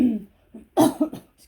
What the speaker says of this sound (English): excuse me if I end up coughing a bit.